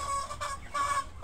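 Backyard hens cluck softly in repeated short bursts, a close flock sound with a low murmur beneath and no talking.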